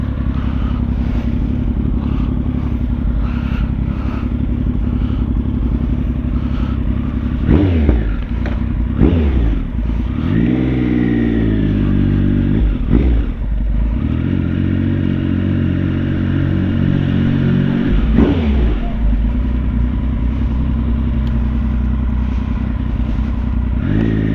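Motorcycle ridden at roughly 45 mph on the way back, its loud, close engine droning steadily with a few surges and rev changes around the middle, and no talking.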